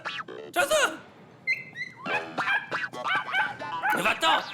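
Small dog yapping in a few short sharp barks and whimpers, mixed in with excited, frightened human voices talking and shouting over it.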